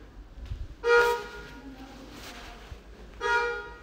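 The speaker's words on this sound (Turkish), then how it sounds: "Ona biri korna çaldı." A car horn on a street honks twice, about two seconds apart, the first blast longer, heard at moderate distance over faint outdoor background noise.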